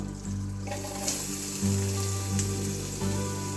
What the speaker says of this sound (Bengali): হালকা করে একটু পেঁয়াজটা ভেজে নেবো